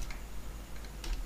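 A few key taps on a computer keyboard, entering text in a CorelDraw design for a stamp, with brief bursts near the start and end of a short quiet stretch, close and alone.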